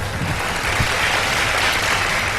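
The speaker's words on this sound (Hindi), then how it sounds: "तालियां तो बजाते हैं यार" Studio audience of a live iftar quiz show clapping after a correct answer about a couplet; steady, loud, dense applause throughout without pause.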